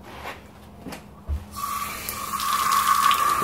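Water from a tap pours and splashes steadily as a car headlight is rinsed off after a Meguiar's heavy duty restoration treatment, starting after a brief quiet moment and growing louder.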